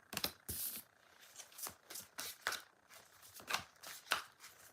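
Tarot cards being shuffled by hand, a run of quick papery riffles and slaps coming in uneven bursts, close and fairly quiet, with no voices.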